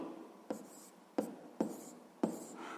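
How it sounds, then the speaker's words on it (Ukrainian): Handwriting with a pen on paper while working a sixth-grade maths problem, four soft scratchy bursts at roughly even intervals, close and faint, without speech. "Записуємо тоді, що це буде дорівнювати 16500."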